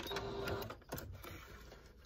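A domestic sewing machine stitching a small fabric hot pad, a short whirring run of quick needle strokes followed by a few slower back stitches, close and moderately quiet.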